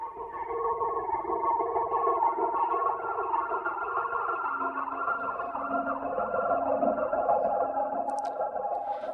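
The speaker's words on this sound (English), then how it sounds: "Really spacey turkey sounds." Turkey gobble samples turned into a spacey ambient Ableton Live instrument make a steady, washy, echoing drone with wavering siren-like tones, sustained throughout without speech.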